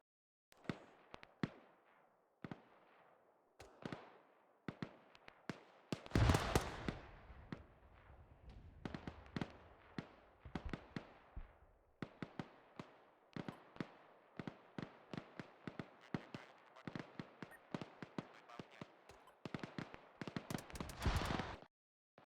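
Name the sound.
gunshots in Arma 3 video game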